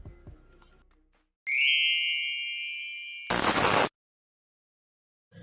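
A bright notification bell ding rings out clean and ringing, slowly fading over about two seconds, then cut by a short burst of harsh static, with a faint click at the start.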